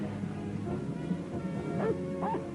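A cartoon dog barks in short yips and whimpers that rise near the end, fairly faint over a soft background of music and sound effects.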